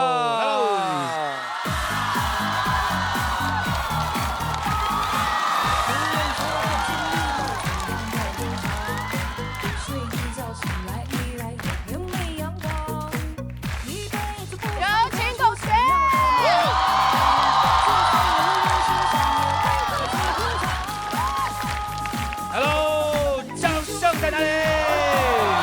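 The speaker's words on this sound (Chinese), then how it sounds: "掌声欢迎" A television comedy show's studio audience cheers, whoops and applauds loudly and continuously under music and voices.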